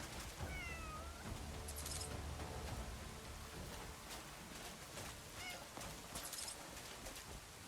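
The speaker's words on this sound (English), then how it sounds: "There's a good kitty cat doing my looting for me." A cat in the video game Crimson Desert meows a couple of times, short rising calls spaced apart over a steady background of game ambience, with no talking.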